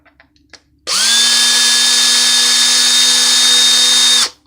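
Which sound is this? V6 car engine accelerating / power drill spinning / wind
power drill spinning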